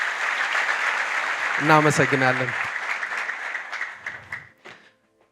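An audience claps for manager-level leaders at a network-marketing company gathering; the applause is heard briefly under an emcee's continuous talk and fades out near the end.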